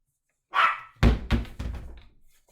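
A pet dog barks indoors, a short yip followed by three close, loud barks in quick succession, with no talk over it.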